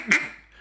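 A single short, nasal quack blown on a duck call imitating a blue-winged teal, close and moderately loud, fading quickly into a quiet room.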